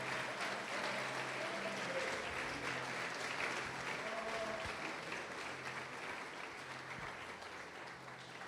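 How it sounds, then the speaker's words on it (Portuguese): Faint, distant church congregation applauding in a steady, even wash of clapping, with a low hum and murmuring voices underneath, slowly easing off. "Pode aplaudir"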